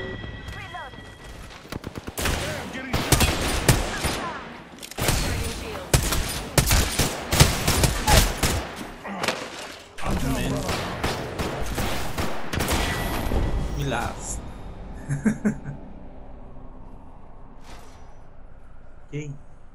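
Rapid automatic gunfire in the video game Apex Legends, with clustered bursts of shots in quick volleys that thin out toward the end. A player talks over the shooting.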